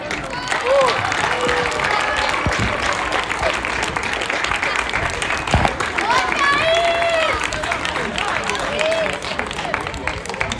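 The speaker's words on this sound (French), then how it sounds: "on peut applaudir bien fort, Wascal." Spectators at a youth under-12 football tournament applaud the winning team, with sustained hand clapping and scattered cheers continuing for about ten seconds while background chatter mixes in.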